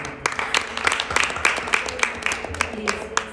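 Audience applause welcoming a young mridangam performer at a children's Carnatic music concert: a steady patter of many hands clapping throughout, with a few sharper individual claps standing out over the crowd.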